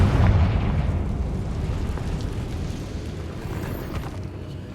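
A Confringo fire spell bursts in Hogwarts Legacy with a loud booming blast up front, then settles into a long rumbling roar that slowly fades.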